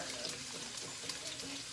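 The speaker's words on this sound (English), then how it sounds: "after I pour the 2 cups of water into this mason jar" Water pours steadily into a mason jar in a kitchen, two cups' worth, a soft continuous trickling and splashing heard close and fairly quiet.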